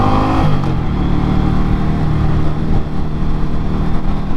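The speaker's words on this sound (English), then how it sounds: "You can really lean this bike," An Indian Scout Rogue motorcycle being ridden through turns, its engine a loud, steady drone with a brief rise in revs near the start, close and continuous with no voices.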